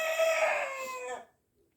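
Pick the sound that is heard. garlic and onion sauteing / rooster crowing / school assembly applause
rooster crowing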